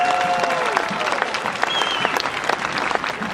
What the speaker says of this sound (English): a round of applause for this beautiful evening